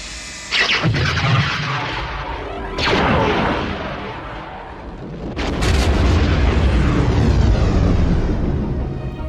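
A Star Wars Death Star superlaser fires in a loud, sustained blast, with heavy booming surges at the start and again near three seconds, then a massive roaring swell that fills the rest.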